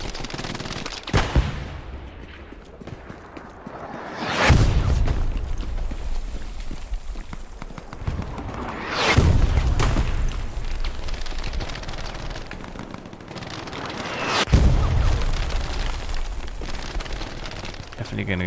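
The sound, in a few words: mortar explosions in the video game Hell Let Loose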